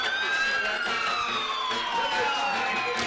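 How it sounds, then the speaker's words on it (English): Wailing fire truck and ambulance sirens sound together at a high school football playoff game after a touchdown, a steady loud rising-and-falling tone that fills the whole stretch, with faint crowd noise underneath. "the fire truck and ambulance siren up one more time"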